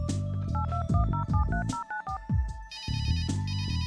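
A telephone rings in the Runaway point-and-click adventure game: a series of electronic ringtone trills and tonal beeps, clear and close, ending in a brighter, higher warbling ring.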